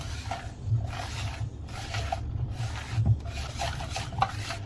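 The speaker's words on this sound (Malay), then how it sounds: "lepas tu kita masukkan pula butter cair dia Kita gaul lah" Apple cake batter being stirred after melted butter is added, soft repeated rubbing and scraping strokes in a bowl, close and fairly quiet, with no talking.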